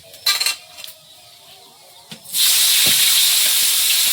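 Panch phoron spices hit hot oil for a fish curry with a sudden loud, steady hissing sizzle that fills the second half, after a few earlier clinks of utensils and pans.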